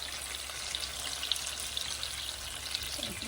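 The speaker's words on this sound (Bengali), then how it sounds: "এখানে আমি মাছগুলো একটু টুকুর করে ভাজা নিচ্ছি" Pieces of sarputi fish frying in hot oil give a steady, close crackling sizzle with small pops, continuous and even throughout with no talking.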